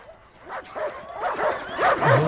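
Several dogs bark and yip excitedly in quick, uneven bursts while they run, the sounds fairly close and rising slightly in loudness toward the end.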